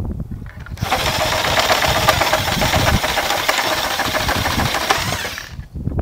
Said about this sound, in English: Now I'll find out how long it takes to go through 3 nails with a Sawzall.